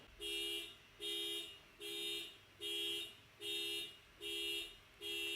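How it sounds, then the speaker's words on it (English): A faint car alarm sounds in the distance, repeating about eight even, two-toned electronic honks in a steady rhythm, with quiet gaps between them. "There's the car alarm again."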